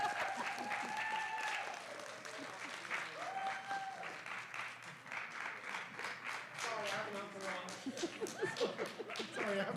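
Applause and cheering for honoree Ed Thull at a school board of education meeting, a sustained round of indoor clapping from a small crowd with scattered whoops, steady throughout, with voices talking over it.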